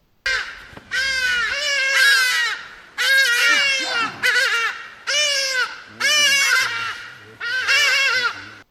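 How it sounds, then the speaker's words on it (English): A hadeda ibis screams in loud, harsh, raucous calls, five or six drawn-out bursts with short pauses between, close and piercing. "most people hate one specific bird, the hadedas, and its loud screaming"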